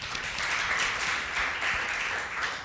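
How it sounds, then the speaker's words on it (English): An audience at a cloud computing and open source conference applauds, giving a steady wash of many clapping hands throughout. "Let's give them a round of applause."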